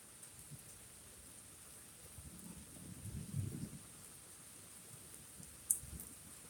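A storm brings steady, soft rain with a faint low rumble of distant thunder swelling briefly near the middle, quiet and without voices.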